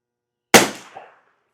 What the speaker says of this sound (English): Let's hear our first shot